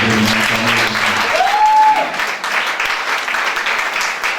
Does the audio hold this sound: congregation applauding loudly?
yes